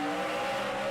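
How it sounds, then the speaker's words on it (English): NASCAR race car at Richmond with its rear tires spinning hard while powering off a corner, a loud sustained engine roar with steady harmonic whine under broadband tire and track noise, no talk. "you can hear the 9 car. His rear tires are spinning big time up off the corner."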